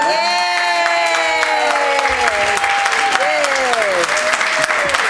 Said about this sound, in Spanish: así es que hay que darle un aplauso